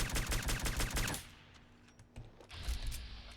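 Crusader Pistol fire in Fallout 4: a rapid burst of shots at the start, then a quieter stretch with a few isolated reports and another short burst near the end, no talking.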